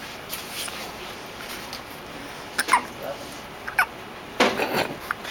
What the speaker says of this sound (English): There's your synchronized hiccups.